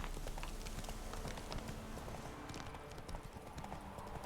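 Hooves of a horse clip-clopping in The Witcher 3 as the rider moves on toward a village, a steady quick trotting rhythm heard up close over game ambience.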